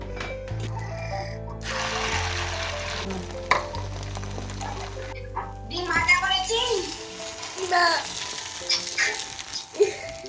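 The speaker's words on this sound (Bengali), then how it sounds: "কড়াই একটু অলিভ অয়েল দিয়ে দিলাম আর এবার ডিমটা যেমন ভাজি ওরকম ভাবে ভেজে নেব" An egg fries in olive oil in a wok, a close sizzling and crackling that runs steadily while a child and an adult speak over it.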